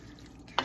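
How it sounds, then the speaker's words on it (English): Spaghetti being stirred into meat sauce in a pan: a quiet background, then one brief, close scraping, squishing stir near the end. "Now I'm going to stir it all together,"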